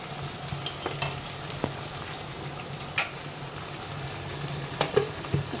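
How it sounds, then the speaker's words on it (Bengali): Chicken for rezala simmers covered in a pan, giving a soft, steady sizzle and bubble with a few sharp clinks, and no voices. "যতক্ষণ না এই চিকেনের থেকে বেরোনো জলটা পুরো মরে যায় ততক্ষণ এটাকে ঢাকা দিয়ে সেদ্ধ করতে দেবো।"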